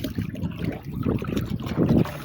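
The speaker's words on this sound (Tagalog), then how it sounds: "Medyo umahangin-hangin" Wind gusts over open water in a steady, low buffeting rumble, with faint sloshing of water nearby.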